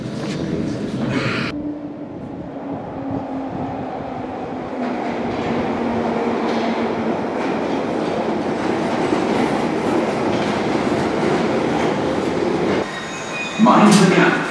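A London Underground train passes, a loud sustained rumble with wheel clatter and a faint squeal, then a sharper burst near the end, with some voices in the background.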